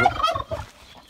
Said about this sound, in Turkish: Erkek hindimiz bugün yatmamış yumurtlamaya Ayşe.